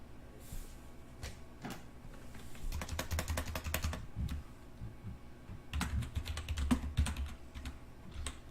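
Rapid clicking keystrokes on a computer keyboard come in two dense bursts with scattered single taps between, close and fairly clear in a quiet room with no talk.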